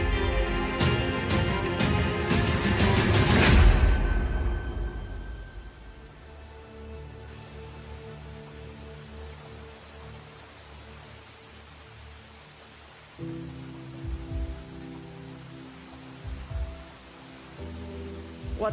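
Rain falls steadily as a soft, constant hiss after a burst of louder sounds at the start, with low thumps and hums joining in later.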